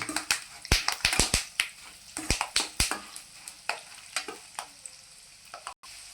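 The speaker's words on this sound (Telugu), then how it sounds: "ఇప్పుడు ఇందులో ఎండుమిరకాయలు ముక్కలు వేసేసుకుందాము" Dried red chilli pieces crackle and pop in hot oil during tempering for tamarind pulihora, sharp irregular snaps and sizzles close by, fading toward the end.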